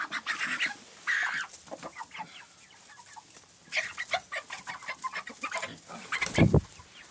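Chickens cluck steadily with a rooster's louder calls mixed in, a busy farmyard chorus close by.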